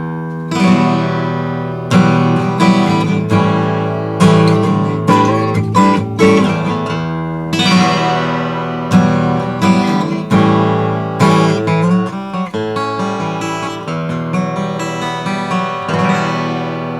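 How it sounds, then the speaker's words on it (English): Gibson acoustic guitar strung with D'Addario XS strings, recorded dry straight into a microphone, playing a sustained run of strummed and picked chords with bright, full ringing tone, loud and close with no talking. "the Gibson guitar's got the XS D'Addario strings on it, and it now sounds like this."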